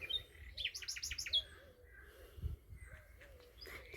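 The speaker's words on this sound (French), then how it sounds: "Vous comprenez pourquoi j'ai tous ces oiseaux?" Several birds chirp and sing along a leafy garden corridor, with a quick burst of high tweets early on, then scattered calls and soft cooing over light outdoor background noise.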